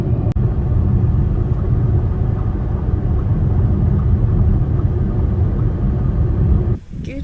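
A car rolls along a dusty road on the Lake Apopka Wildlife Drive near Orlando, Florida, with a loud, steady low engine and tire rumble that holds throughout and then drops off sharply near the end.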